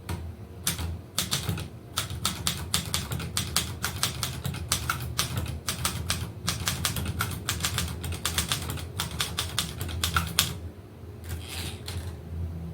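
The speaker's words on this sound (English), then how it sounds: "Now I want to do the one thing I always do that we'll test every single letter key on the machine." A 1965 Royal Royalite manual typewriter clacks through a long run of letter keys, sharp close strikes in a fast, slightly uneven rhythm with brief pauses, ending in a few spaced taps.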